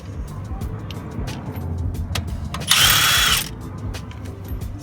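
A small impact wrench gives one short, loud, close burst while removing transmission bolts on a 1995 Ford Mustang 5.0 GT, amid quiet garage clatter and low background rumble.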